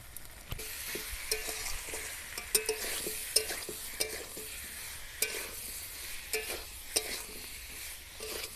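Potatoes for alur dom sauté on low heat in a pan, a soft steady sizzle broken by repeated scraping and tapping as a spatula stirs them.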